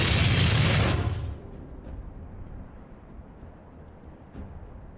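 A heavy artillery explosion goes off in the Warhammer 40000 Armageddon strategy game, a loud, close boom that fades into a low rumble with faint distant thuds afterward.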